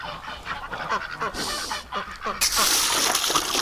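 Penned ducks honk and quack repeatedly in a noisy flurry close by, with some splashing and a voice speaking.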